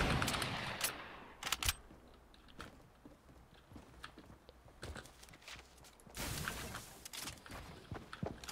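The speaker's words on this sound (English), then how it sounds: "It's like all shotgun shots." Shotgun fire in Fortnite, a handful of sharp, loud blasts scattered irregularly, with one dense burst near the start and a louder cluster later, over quieter game noise.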